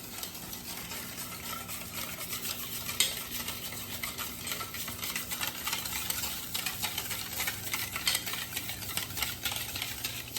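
A spoon stirs sugar into yogurt for dahi vada, giving a soft, continuous scraping and swirling that stays quiet and steady throughout with no talking.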